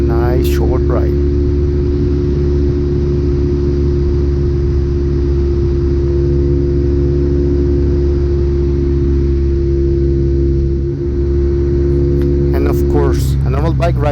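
Steady, loud engine drone from a BMW R nineT motorcycle fitted with Akrapovic exhaust headers, heard while riding, holding a constant low roar for the whole stretch with no pauses.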